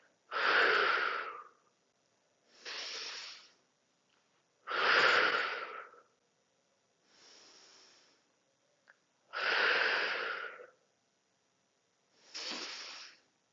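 Deep breaths during a yoga flow, six long, slow, audible inhales and exhales alternating strong and softer, close and alone with no talking.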